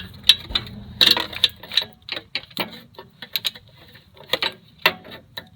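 A ratchet fitted with a short extension, swivel head and E14 socket works on a 1999 Mercedes-Benz ML320 starter, giving sharp irregular metallic clicks and ticks in short bursts with quiet gaps between.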